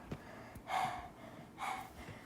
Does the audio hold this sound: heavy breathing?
yes